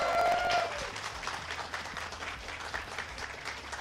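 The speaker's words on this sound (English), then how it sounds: "please can we give a huge round of applause" Steady applause from an audience, a dense patter of clapping that starts loud and holds on for a few seconds.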